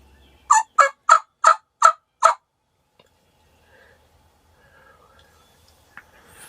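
A wild turkey gobbles in a quick burst of six rapid calls during a central Wisconsin spring hunt, then quiet with faint birdsong in the distance.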